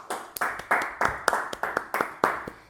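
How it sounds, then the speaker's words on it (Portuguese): Audience clapping in a series of separate sharp hand claps, irregular and fairly close, at a moderate level with no talking over it. "Palmas,"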